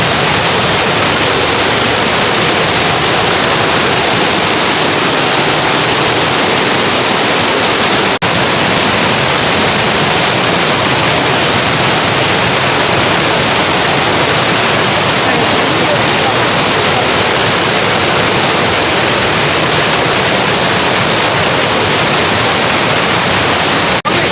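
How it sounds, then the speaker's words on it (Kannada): Steady, full roar of a waterfall along the rainy Yana trek near Gokarna, a dense unbroken rush of falling water that holds at a loud, even level throughout with no voices. "ಯಾಣ ಟ್ರೆಕ್ಕಿಂಗ್ ನಿಮಗೆ ಫುಲ್ ಆಫ್ ವಾಟರ್ ಫಾಲ್ಸ್, ಸಣ್ಣ ಸಣ್ಣ ಜಲಪಾತ, ದೊಡ್ಡ ದೊಡ್ಡ ಜಲಪಾತ"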